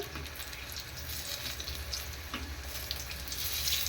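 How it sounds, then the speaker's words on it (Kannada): Green chili fritters (mirchi bajji) deep-fry in hot oil with a steady, busy sizzle and bubbling, fairly quiet and close, with no talk. "ಮೆಣಸಿನ್ಕಾಯಿ ಕರಿಬೇಕಲ್ವಾ, ಸೊ ಹಾಗಾಗಿ ಏನಾದ್ರು ಸೌಂಡ್ ಈ ಥರ ಬರುತ್ತೆ"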